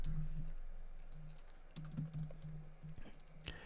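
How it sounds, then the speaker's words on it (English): Quick, light clicks of fingers typing on a computer keyboard, a short burst of key taps close by and fairly quiet over a steady low hum, with no speech. "I'm going to go ahead and type in buyer's list."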